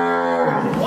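A single cow at a cattle and buffalo sale moos loudly and close by, one drawn-out call that rises and roughens toward the end, with no talking over it.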